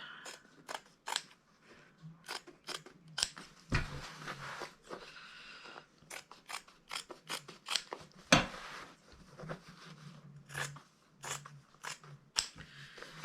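Repeated close, crisp snips of scissors cutting through stitches in fabric, irregularly spaced with short pauses and small rustles between cuts.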